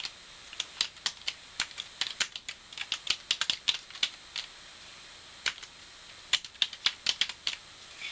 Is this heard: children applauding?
no